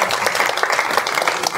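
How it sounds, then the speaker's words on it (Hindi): Audience at a Hindi comedy poetry gathering (hasya kavi sammelan) applauds in a steady, dense burst of clapping, fairly loud and close, with no pauses. "एक बार आप जोरदार तालियां के लिए।"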